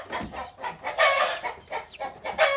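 Young Shamo chickens, a meat breed just over a month old, cluck repeatedly on a poultry farm in short, close, uneven calls with no talk.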